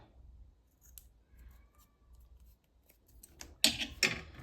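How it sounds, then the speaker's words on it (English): Scissors trim excess paper from a handmade journal page corner protector: quiet handling at first, then a few crisp, close snips in quick succession near the end. "then just cut a little bit of excess off there"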